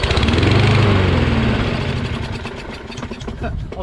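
A Craftsman 22 lawn mower engine with a key start system and a carburetor needing cleaning runs loud and close, a rough, throbbing drone that eases slightly in volume partway through.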